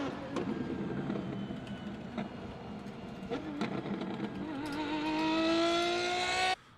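A naturally aspirated V12 car engine accelerates from a moderate distance, its pitch climbing steadily to a high-revving wail before cutting off sharply, with a voice talking faintly underneath.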